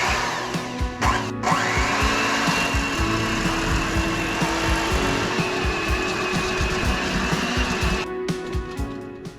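An electric mixer beats eggs for eggnog with a steady, loud whirring drone, rattling against the bowl with uneven clatter throughout and briefly easing near the end.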